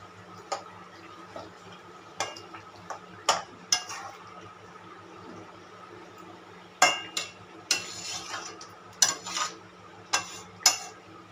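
A spoon stirs chicken white korma in a pot, producing intermittent scraping knocks and clinks against the metal in short bursts over a low background hum, with no talking.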